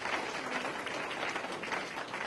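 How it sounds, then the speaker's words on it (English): Steady applause from a crowd at a Veterans' Day event, fairly distant and even, with dense clapping throughout. "let's have a round of applause for everybody"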